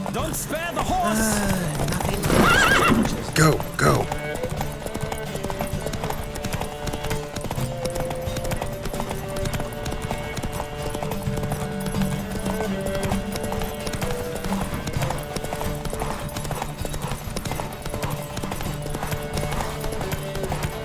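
Horses gallop in a race in The Witcher 3, a steady, loud clip-clop of hooves running throughout, with a whinny and shouts near the start and a music bed underneath.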